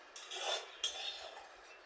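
Cooked leafy greens are spooned into a bowl with two short bursts of scraping and light dish clinks, close and fairly quiet, with no talking.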